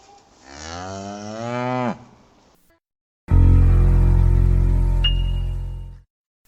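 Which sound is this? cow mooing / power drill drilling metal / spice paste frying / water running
cow mooing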